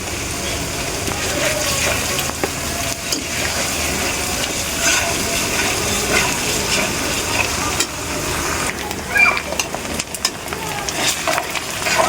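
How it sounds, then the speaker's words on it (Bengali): Chopped onion frying in oil in a kadai, producing a steady, dense sizzle with occasional stirring scrapes that runs throughout, close and fairly loud, with faint talk. "তো পেঁয়াজটা কিন্তু অনেকটা ফ্রাই হয়ে এসছে"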